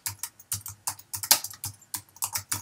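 Keys on a computer keyboard clack in quick, uneven bursts of close, crisp taps with short pauses between groups.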